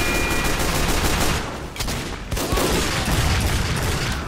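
Rapid gunfire rattles continuously in a Team Fortress 2 match on Hightower, loud and dense bursts with brief dips, no voices over it.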